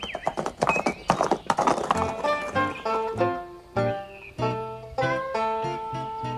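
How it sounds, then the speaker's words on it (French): A horse's hooves clop in a quick, uneven run while the animal neighs and whinnies over them, loud and close with no voices. "Tiens, il s'est monté à cheval maintenant."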